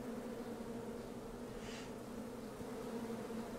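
Bee buzzing inside the King's Quest video game, a steady insect drone with a brief brighter swell midway, heard alone over a constant game ambience bed.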